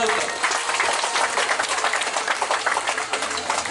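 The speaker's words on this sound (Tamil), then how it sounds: "எங்கே உங்கள் உற்சாகமான கரகோஷம்?" Audience applause at a human rights mission event held at a preschool in Dambulla, Sri Lanka: steady dense clapping from a crowd, fairly loud and continuous for a few seconds, with some voices mixed in.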